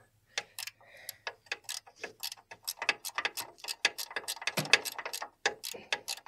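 A wrench ratcheting on rusted bolts of a 1986 Chevrolet Suburban at a distribution block: rapid, irregular metallic clicks in quick bursts, close and loud, with brief pauses between runs.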